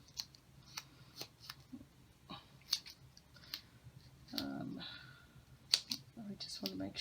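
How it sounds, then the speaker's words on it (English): Scissors snip double-sided tape into several small pieces for a card, sharp close clicks and short cuts spaced irregularly, with rustling of tape and paper. "So I just have this sort of double-sided tape. So we'll just cut into a few pieces"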